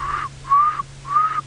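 A person whistles an imitation of an animal call on a sunrise safari drive: three short, clear, high tones with brief gaps between them, close and fairly loud, with no talking.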